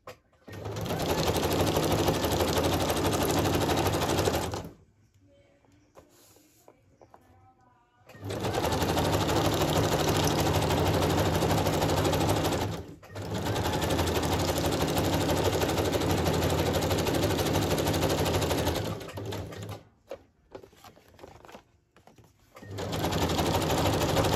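A sewing machine zigzag stitches around the outer edge of a trifold journal insert in long, loud, steady runs of about four to five seconds each, with short quiet pauses between them.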